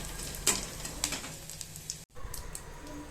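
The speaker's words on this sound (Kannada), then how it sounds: "ಸೊ ಇದು ಸ್ವಲ್ಪ ನೀಟಾಗಿ ಫ್ರೈ ಆದಮೇಲೆ ಉದ್ದಿನಬೇಳೆ ಮತ್ತು ಕಡಲೆಬೇಳೆ ಹಾಕ್ಕೊಂಡಿದ್ದೇನೆ. ಸೊ ಇದನ್ನು ಕೂಡ ಒಂದು ಸ್ವಲ್ಪ ಫ್ರೈ ಆಗಲಿ." Mustard seeds, cumin, urad dal and chana dal frying in hot oil for a Mangalore-style tondekai palya, giving a soft, steady sizzle with a few sharp crackles and pops, close up and with no talk.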